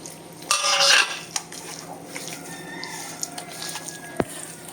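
Spoon clinks and scrapes against a bowl as spice powders are mixed together, a loud burst of scraping at the start followed by lighter intermittent taps and one sharp knock.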